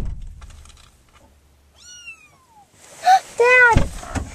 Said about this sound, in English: Sounds like there's a kitty!